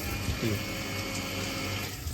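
A household water pump motor hums steadily as water flows from a tap, a close, even rushing drone with no voices.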